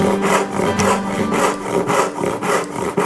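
A dull, unsharpened hand saw cuts through wood in a steady back-and-forth rhythm, roughly six rasping strokes in three seconds, each with a scratchy, uneven bite, close and alone.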